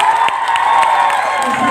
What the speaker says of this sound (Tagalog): Kung tama, may pumalakpak kayo't sumigaw.